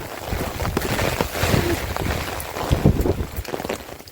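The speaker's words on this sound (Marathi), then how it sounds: "एवढा वारा सुटला बापरे" Strong wind buffets the microphone on a trek near Choravane in Ratnagiri, a loud, rough roar that gusts and surges unevenly throughout, with no clear speech.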